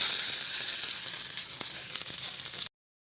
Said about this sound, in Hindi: ज़ीरा जो है वो बहुत अच्छे से ब्राउन हो चुका है और अब हम इसको डाल देंगे बाउल में